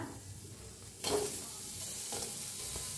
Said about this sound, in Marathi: आता भाजून घेऊया हलकासा कांदा